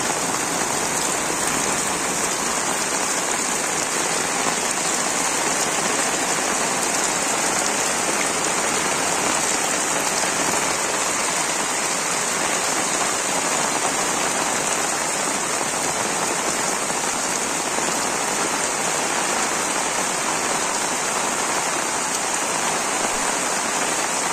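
Heavy rain pours steadily over a village, a dense, unbroken hiss of drops on surfaces that stays loud and even throughout, with no voices.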